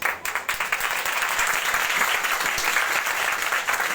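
A church congregation claps loudly and in unison, praising Jesus: a dense, sustained burst of applause that fills the room, steady throughout with no talk over it.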